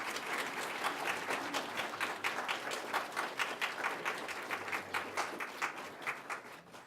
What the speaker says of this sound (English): Let's give Tractor Supply a nice round of applause.